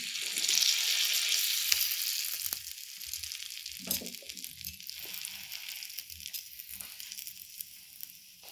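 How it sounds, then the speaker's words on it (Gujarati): Pav buns heating in butter on a hot pan, a loud hissing sizzle at first that settles into a steady fry with scattered scraping and tapping sounds, close and without talking. "બટર એડ કરી દઈશું પાવને આપણે ગરમ કરી દઈશું"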